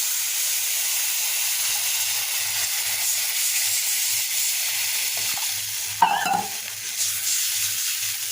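Water hits a hot fried onion and spice paste for pangas fish curry, giving a loud, steady sizzle and hiss of frying, with a brief sharp squeal and clatter near the end.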